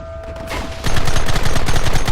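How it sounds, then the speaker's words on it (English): Gunfire in the Xbox 360 game Red Dead Redemption: one shot, then a loud, close, rapid volley of many overlapping gunshots that keeps going to the end. "Open fire!"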